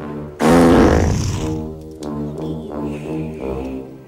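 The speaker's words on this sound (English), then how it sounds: "Dennis the Menace is probably the only movie where you'll see Lloyd do a massive fart" A loud, massive fart from the character Lloyd in the Dennis the Menace movie, opening in a sudden blast and trailing off into a long, rumbling, sputtering tail that dominates the scene.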